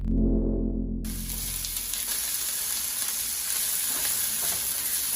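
After a low rumble, a loud steady sizzle erupts as cabbage hits hot oil and keeps crackling close by.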